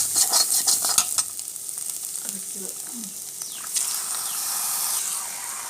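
Chicken liver pieces fry in a pan for a pepper fry and are stirred, giving a sizzle with scraping and clinking stir strokes. Speech is faint in the background.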